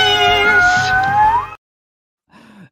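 A cat shut inside a suitcase lets out a loud, long, tonal meow that wavers for about a second and a half, and after a short silence a second, briefer meow follows.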